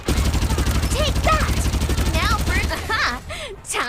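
Rapid automatic gunfire in the battle royale shooter Farlight 84, a loud steady burst of shots for nearly three seconds that cuts off, followed by a game character voice and chatter.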